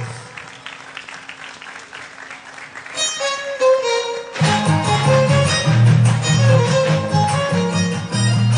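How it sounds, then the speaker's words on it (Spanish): Loud applause from a festival audience at the Feria San Juan 2022 folk dance show, steady clapping that swells as bright festive music with a bass beat kicks in midway. "Aplausos fuertes."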